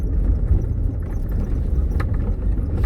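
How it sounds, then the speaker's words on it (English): The V8 of a Nissan Y62 Patrol rumbles low and steady while crawling an off-road 4WD park track, a close, continuous drone with faint rattles and no talk. "Listen to that V8."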